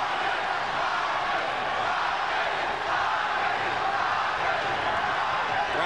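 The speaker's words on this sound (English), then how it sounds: "Crowd chanting Marquez, Marquez, Marquez as his supporters try to get him back into the fight" A boxing arena crowd chants a fighter's name, a dense, sustained roar of many voices that stays loud and fairly even from start to finish, with no single voice standing out.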